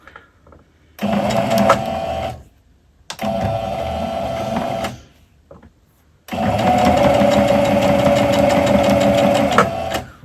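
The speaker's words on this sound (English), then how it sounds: "we're just going to do our stitch, and then we're going to make sure that we do a back stitch" A sewing machine runs in three loud, steady bursts of rapid stitching, back-stitching along a pet Halloween bandana, with brief quiet pauses between the runs.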